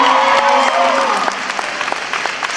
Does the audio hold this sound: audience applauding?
yes